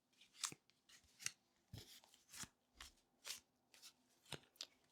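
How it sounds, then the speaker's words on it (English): A deck of playing cards is shuffled up close, a string of soft, crisp riffling bursts repeating at a roughly even pace, faint and quiet with no talking. "Now I have a deck of cards here."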